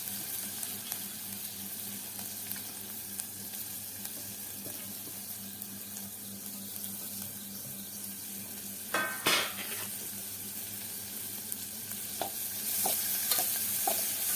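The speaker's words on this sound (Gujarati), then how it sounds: "હવે નાખી દઈએ આપણે દાંડી આવી રીતે ધીરે વઘાર કરી કરવો" Steady low sizzling of drumstick stalks in a mustard and fenugreek seed tempering, with occasional stirring and clinking, a brief louder burst near the middle, no talking.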